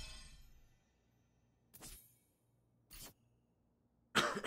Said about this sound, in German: Eieiei, der Husten.